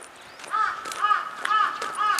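Crows caw in a park around an ancient keyhole-shaped burial mound in Osaka, with about four rhythmic bursts of harsh, nasal calls repeating close by.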